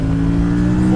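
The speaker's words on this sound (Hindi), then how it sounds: "तो एग्जॉस्ट सुन के मजा आ रहा है" An Aprilia RS 457 motorcycle's exhaust holds a loud, steady droning engine note, revving close by without pause for the whole second, with no talking over it.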